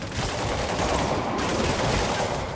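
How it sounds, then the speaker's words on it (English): Dense, continuous gunfire crackles through a Spider-Man Remastered fight, a loud unbroken barrage of overlapping shots with no gaps. "Way too many bullets flying over there"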